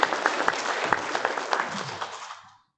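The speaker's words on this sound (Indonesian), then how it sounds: "Bagi tepukan." Applause from an audience at a Malaysian district council swearing-in ceremony for newly appointed council members, steady clapping for about two seconds and then fading out.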